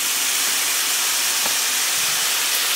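Pork cooking down in a pot for rib tips in spaghetti sauce gives a steady, close hiss of steam and gentle sizzle, unbroken and without talk.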